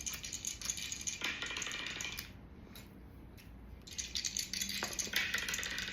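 Dice shaken and rolled during a spicy food dice challenge, a quiet rattling clatter in bursts with a brief pause in the middle, close and faint.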